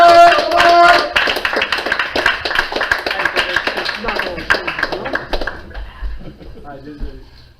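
An open mic audience claps loudly at first, the applause thinning into sparse claps before dying away, with a voice speaking over the start.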